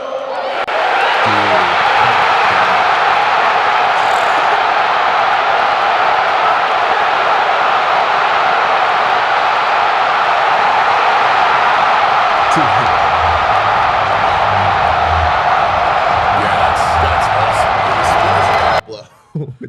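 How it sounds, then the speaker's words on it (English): A huge stadium crowd roars without a break through a playoff baseball game after Stott's hit, loud and sustained, with a commentator talking over it. "I think we have the Stott hit with the crowd noise unmuted"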